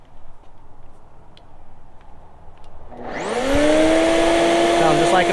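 Sun Joe 801E electric lawn dethatcher starting up outdoors, its motor spinning up in about a second into a loud, steady vacuum-like whine that holds without letup.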